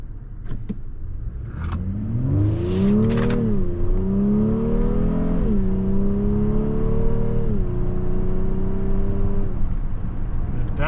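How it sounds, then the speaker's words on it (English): A 2025 Honda Pilot Black Edition midsize SUV downshifts through its paddle shifters on a drive, the engine note stepping up in pitch with each shift and holding a steady hum in between, heard from inside the cabin. "Downshift, nice and smooth as well."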